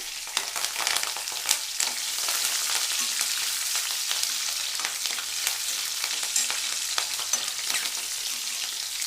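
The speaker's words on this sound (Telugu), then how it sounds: "ఈ జీలకర్ర కూడా వేగిన తర్వాత ఈ పచ్చిమిర్చి ముక్కలు వేసుకోండి." Cumin and chopped green chillies fry in hot oil for a dal curry, making a steady close sizzle dotted with frequent small pops and crackles.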